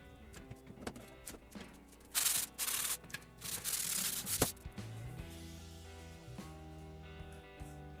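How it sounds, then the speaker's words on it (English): Hand sanding of wooden board edges before gluing for a side table, with bursts of rough scratchy rubbing strokes in the middle, softer scuffs and handling knocks around them, close and fairly quiet. "I'm just kind of roughing up these edges before I glue the boards together"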